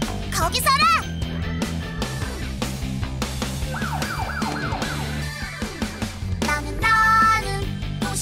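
A cartoon police car siren from a Rescue Tayo children's song wails in rising and falling sweeps, mixed into bouncy music with animated voices shouting over it.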